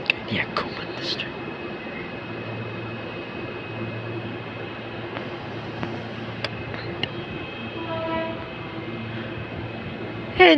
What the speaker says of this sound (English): 718 is now departing for a Cannon Hill service.